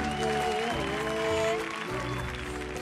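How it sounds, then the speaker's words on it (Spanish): A television studio audience applauds a young singer with sustained clapping mixed with music and tonal sound, steady and loud throughout the short stretch. "Señores, fuerte el aplauso para este joven de 18 años."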